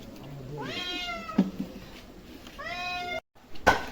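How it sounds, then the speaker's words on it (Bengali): A cat meows twice in drawn-out, rising-then-falling cries while being bathed and shampooed, the calls fairly close and clear over a low background, with a brief knock and splash between them and at the end. "দেখেন আমাদের মোবারক ভাই বিলাইটা গোসল করতেছে সুন্দর করে দেন শ্যাম্পু লাগায় দেন"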